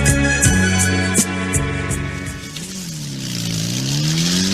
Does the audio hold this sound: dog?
no